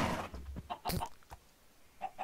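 Short, game-like chicken clucks come in a few scattered bursts with quiet gaps between them, at moderate loudness and no talking.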